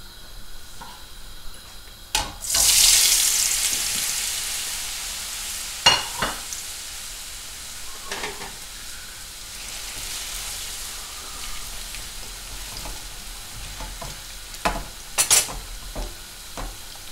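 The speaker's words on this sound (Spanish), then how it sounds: "Y a temperatura media, cuando esté caliente, empezaremos a freír." Food hits hot olive oil in a pan at medium heat and sizzles steadily, with occasional stirring clatters and spatters. Cooking potatoes are being prepared alongside it. No one speaks.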